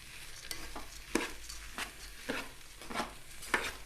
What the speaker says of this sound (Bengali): আমরা এভাবে নেড়ে চেড়ে ভালোভাবে ভেজে নিব।